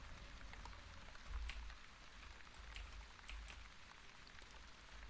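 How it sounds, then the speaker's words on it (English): Steady rain in the video game The Wandering Village, a continuous dense patter of drops with low rumbling underneath, heard alone without talk. "And thank you, rain."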